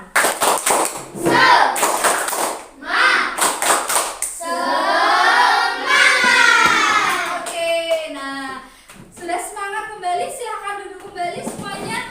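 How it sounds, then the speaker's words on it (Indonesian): A classroom group does a rhythmic cheer clap, sharp bursts of hand claps alternating with loud chanted and shouted voices from the students. "Yuk kita tepuk semangat dulu."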